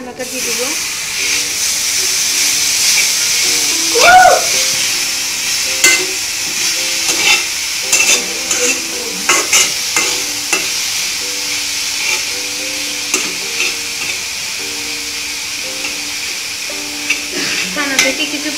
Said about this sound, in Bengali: এবার আমি ছানাটা দিয়ে দিব।